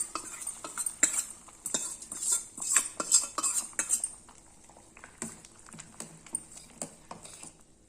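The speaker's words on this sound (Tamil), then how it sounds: "இதில் வந்து தாளிச்சதை ஊற்றிடலாம்." Sambar at a rolling boil in a pot, with hot tempering poured in and stirred: a metal ladle clinks and scrapes against the vessel in uneven taps, alongside a high steady sizzle through the first half. No talking.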